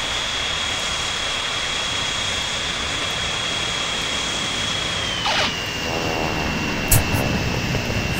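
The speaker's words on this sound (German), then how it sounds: "das Landegeräusch war jetzt ein bisschen unfreiwillig komisch" Airplane landing in the Transport Fever video game: a steady, fairly loud jet-engine whine holds a high tone and then drops in pitch partway through, with a couple of brief thumps near the end.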